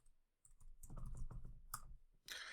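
A command being typed at a computer keyboard, with a quick burst of close, light key clicks and taps, ending in a sharper final keystroke, quiet and with no speech.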